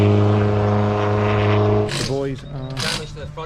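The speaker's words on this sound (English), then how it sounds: "Here's Danny's car." A rally car engine roars and revs as it approaches and sweeps past close by at WRC Rally Italy 2023, its pitch climbing and dropping, with voices talking underneath.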